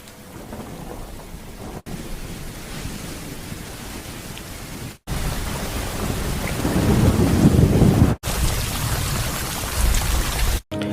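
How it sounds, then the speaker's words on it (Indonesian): Steady heavy rain hisses throughout, swelling into a deep rolling rumble of thunder midway, with a few brief dropouts between sections. "Saat akan berusaha tidur, suara petir terdengar."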